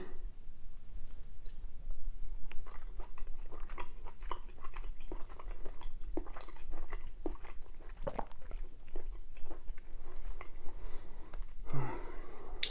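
Close, steady chewing of seafood and tofu from a Korean seafood kimchi soup, with soft wet mouth clicks and slurpy bites running continuously, one sharper crunch near the end, and no talking.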